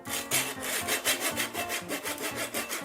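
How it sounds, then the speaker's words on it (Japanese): A handsaw rasps back and forth in a steady rhythm, each stroke grinding loudly through the very hard head of a pufferfish, with no voices. "ノコギリでいきましょう。"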